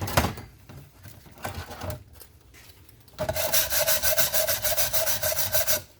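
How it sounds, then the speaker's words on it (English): Wire brush scrubbing a custom-made muffler for a vintage Jonsereds 751 chainsaw. Scattered scrapes come first, then a loud, rapid back-and-forth rasping stroke repeats for about three seconds. "Give her a little more wire brush action."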